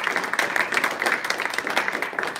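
Scattered applause from a modest crowd, steady rapid clapping at moderate distance with no voices on top.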